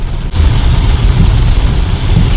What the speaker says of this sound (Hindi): इतनी ज़्यादा बारिश भाई, मैं इसके लिए प्रिपेयर्ड नहीं था